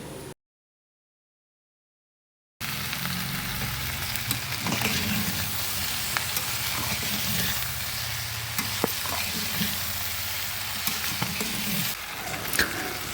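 Masala curry fries with a steady sizzle in the pan while a spoon stirs it, giving scattered scrapes and clacks over the hiss; a short stretch of silence opens the clip before the cooking sounds start.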